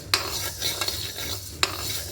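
Black gram lentils are stirred and dry-roasted in a pan for a traditional dish. A soft, continuous scraping rustle is broken by two sharp metallic clinks.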